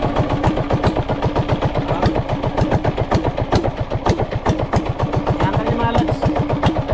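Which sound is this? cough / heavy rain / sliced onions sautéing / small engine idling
small engine idling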